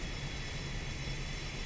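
Twin jet engines of a Me 262 in the IL-2 Bodenplatte flight game produce a steady, even turbine roar and whine, continuous and without talk.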